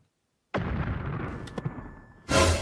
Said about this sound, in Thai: ดูเหมือนว่าหม้อแปลงจะระเบิดนะ